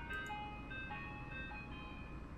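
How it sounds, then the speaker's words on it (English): Ghostly truck engine from the video game Perceptions of the Dead, a steady droning rumble with faint melodic tones drifting over it, approaching continuously and moderately loud throughout. "I turn my eyes to fall upon the approaching truck."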